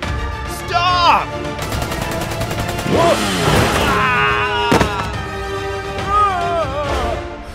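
Staccato bursts of gunfire sound effects ring out in a LEGO prison-break brickfilm, mixed with loud shouting voices and whooping tones, including one sharp bang near the middle.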